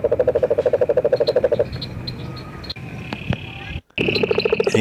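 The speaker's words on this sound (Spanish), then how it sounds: "los sapos, las ranas" Rhythmic pulsing croaks from toads and frogs repeat steadily for a couple of seconds, then give way to a dense, noisy outdoor chorus with chirping insects.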